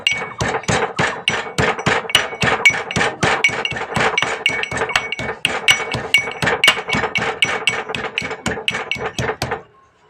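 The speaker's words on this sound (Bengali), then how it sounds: "কয়েক দানা রসুন থেতো করে নেব।" Garlic cloves crushed with a pestle or pounding tool, about twenty-five sharp, evenly spaced knocks in quick succession, close and loud, with no talking, stopping abruptly near the end.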